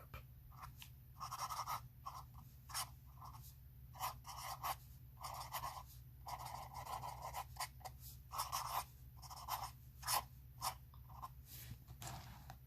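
A vintage 1908 Waterman's flex-nib fountain pen scratching across paper in quick, irregular strokes, faint and close, with short pauses between bursts of writing.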